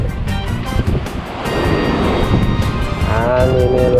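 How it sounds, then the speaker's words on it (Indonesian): Strong wind buffets the microphone on a shore during an ultralight fishing trip, loud rushing gusts mixed with surf noise throughout. "Anginnya luar biasa."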